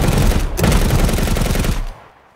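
A PKM machine gun in the tactical shooter Ground Branch fires one loud, close, sustained burst of rapid shots that cuts off sharply and leaves a brief fading tail.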